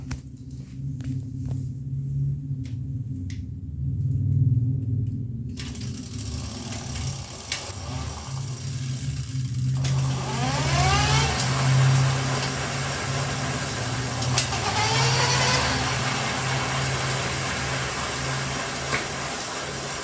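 A 250 watt electric motorbike motor on a test run, starting after a quiet stretch with a rising whine that sweeps up and down as it is throttled, loud and close, with no voices.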